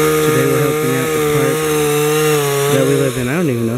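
A chainsaw cuts wood in a park at Cedars of Lebanon, its loud engine droning steadily up close with brief dips and swells in pitch as the blade works, and no other sound competing.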